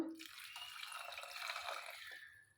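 Boiled chickpea water pours into a pot of chickpea masala curry, a steady close splashing flow for a couple of seconds that tapers off at the end.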